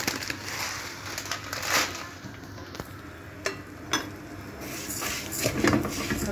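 Vermicelli is stirred in a pan for koshari, with scraping spoon strokes and light clinks over a faint low sizzle.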